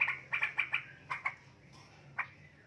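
Straw-headed bulbul, a young jumbo-bodied cucak rowo, gives a quick series of four or five bright chirping notes, then a few more spaced calls, moderately near over a faint low hum.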